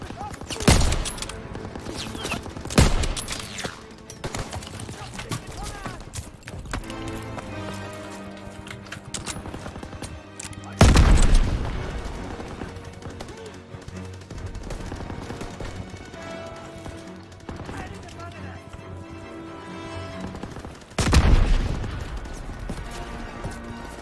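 Machine gun fire and other gunfire in the Call of Duty: WWII video game come in a few sharp, loud bursts spread over a busy battle soundscape with a musical score underneath.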